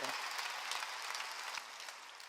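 A church congregation at a Korean Sunday worship service breaks into sustained applause, a thick, even clatter of many hands that holds steady and eases slightly near the end.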